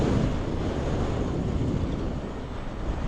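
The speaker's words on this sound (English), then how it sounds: "Super windy right now." Strong wind roars steadily across the microphone as a cyclist rides into a headwind on a regular bike near High Park in Toronto, a dense, continuous low rumble with no speech.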